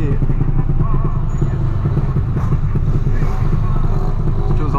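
A motorcycle engine drones steadily and loudly close by, with wind buffeting the microphone throughout.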